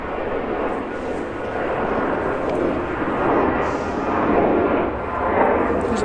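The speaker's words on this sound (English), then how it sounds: "There's a plane somewhere over here." An airplane passes overhead near a train station, a steady broad roar that swells and eases slightly throughout with no break, heard alone.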